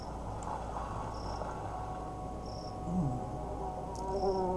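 A dense, steady chorus of insects buzzes and chirps in a quiet nighttime scene from The Darkside Detective, with faint musical tones drifting over the continuous drone.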